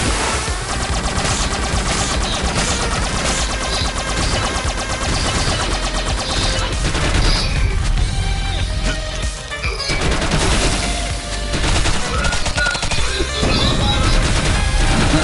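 Rapid bursts of gunfire from The Mummy Demastered, a retro-style action platformer, hammer away almost nonstop over loud game music and explosions, dense and close throughout.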